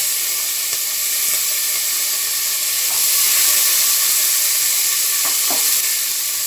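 Curry leaves added to hot oil with onions for a spicy chickpea kara kuzhambu make a steady bright hiss, with a few small crackling pops near the end.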